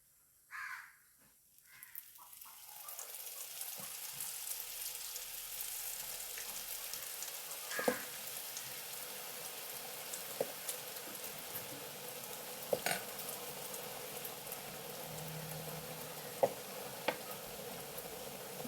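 Whipped egg foam batter poured into hot oil for pancharapatta sizzles and fries in a steady, broad hiss after a brief quiet start, with a few faint clinks and crow caws in the background and no voices.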